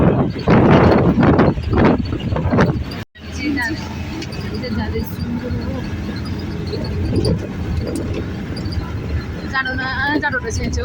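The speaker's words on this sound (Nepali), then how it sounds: "त्यही घोडाहरू चलिरहेको छ।" Horses move along a forest trail in Singalila National Park during a festival, and their hooves clip-clop at a moderate distance. Nearby voices talk over the hooves, and an abrupt cut interrupts the sound early on.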